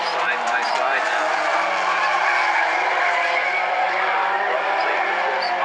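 Bumblebee class race cars roar around South Sound Speedway during a heat race, engines droning loudly and continuously with tire squeal and skidding, while a commentator talks over the action.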